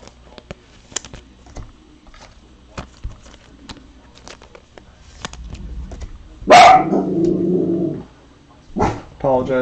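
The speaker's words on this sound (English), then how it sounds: "Apologize for my dog." Pet dog indoors barking loudly and close in a sharp burst, followed by a sustained whine and another short bark, after a stretch of quiet clicks and rustling.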